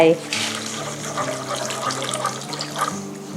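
Water mixed with pandan leaf juice streams steadily into mung bean flour in a mixing bowl, making a continuous splashing pour while a voice speaks over it.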